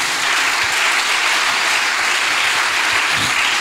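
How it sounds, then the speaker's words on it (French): A church congregation claps together at a worship service, giving dense, continuous, fairly loud applause with a close, even texture and no voices above it. "If it's a good thing, just clap unto the Lord"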